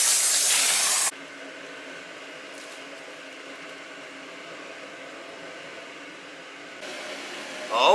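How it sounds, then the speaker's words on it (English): Deep fryer in a food trailer heated for a boil-out cleaning, water boiling and steaming as a steady broad hiss after a louder burst at the start. "Time to do some boil out, and it's already steaming over here."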